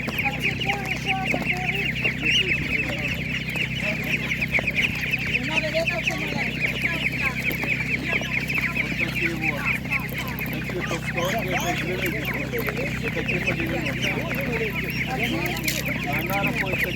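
Ducks and other poultry at a busy outdoor livestock market give a dense, continuous chorus of quacks, honks and clucks, loud and close, with a person briefly speaking over them.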